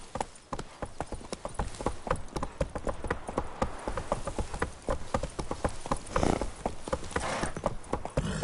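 The horse Roach gallops in The Witcher 3: Wild Hunt, a rapid, steady run of hoof clip-clops on the ground with faint ambient insects behind, close and continuous, with no speech.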